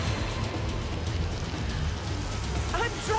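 A rain spell in Divinity: Original Sin brings a steady patter of rainfall hitting surfaces, fairly loud and continuous, with a brief voice near the end.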